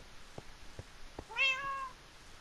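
Siamese cat meowing loudly in a Minecraft survival world, a single drawn-out, rising-and-falling meow heard near and clear after a few soft taps, with no talking over it.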